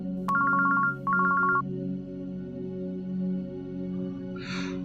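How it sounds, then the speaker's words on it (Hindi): A telephone rings twice in quick trilling bursts over a low steady hum, then falls silent, followed by a soft breathy rustle. "कौन है ये आधी रात को किसका फोन है?"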